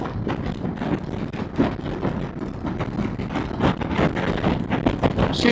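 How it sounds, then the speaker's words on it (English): Steady, loud wind rush and roar on a Honda NX500 motorcycle ride at speed, continuous buffeting noise filling the whole stretch with no talk over it. "we're getting plenty of wind in the face, but there's no adverse buffeting"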